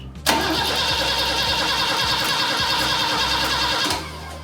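A Volvo 164 engine runs at a steady idle after an idle adjustment, starting abruptly and holding a loud, even drone for about four seconds before cutting off, with no talking.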